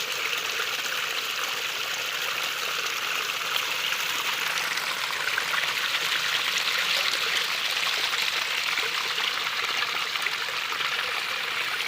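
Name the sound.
water flowing from a natural spring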